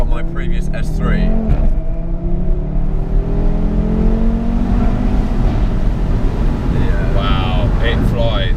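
A 2017 Audi RS3 hot hatch accelerates hard with a loud engine note climbing steadily through the revs. Road and wind noise sit underneath, and people talk over it.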